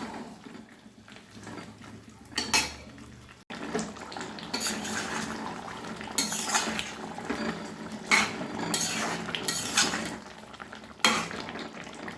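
Chicken pieces sautéed in a pan over a high gas flame for Bengali chicken kosha, with steady sizzling broken by repeated scraping and stirring clatter of a metal spoon against the pan.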